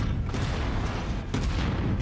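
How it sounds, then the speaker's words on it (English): Loud, rapid heavy autocannon fire thuds repeatedly from a mech in MechWarrior 5: Mercenaries, with sharp blasts punching through a dense, rumbling wash of noise. "Ah, the glorious Dakka cannons."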